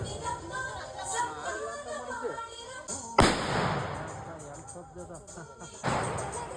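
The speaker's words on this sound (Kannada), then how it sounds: "ಪೂಜೆ ಆದ ಖುಷಿಗೆ ಪಟಾಕಿ ಹೊಡಿತಾಯಿದ್ರು ನೋಡಿ." Two sharp firecracker blasts go off outdoors after a puja at the Bhoomi Hunnime harvest festival, a sudden loud crack around midway and a second one near the end, with people chatting beforehand and noisy crowd ambience throughout.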